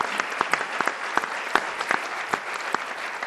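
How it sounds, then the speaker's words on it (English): Audience applause at an executive forum on diversity and inclusion, sparse individual claps standing out over a steady wash of clapping, moderately loud and continuous. "Let's give them a round of applause."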